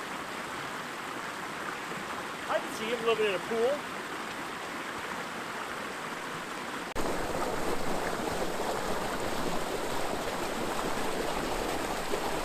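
A creek in oak woodland, Chiquito Creek in the Cleveland National Forest, running full after rains, a steady rushing wash that grows louder partway through, with someone speaking briefly over it.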